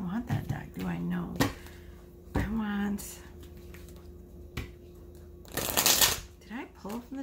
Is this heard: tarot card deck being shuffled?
yes